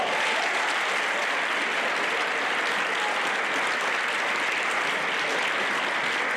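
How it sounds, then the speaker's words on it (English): A school audience applauds a student coming on stage, dense, sustained clapping from a large crowd, loud and even from start to finish with no voices standing out. "Round of applause for him"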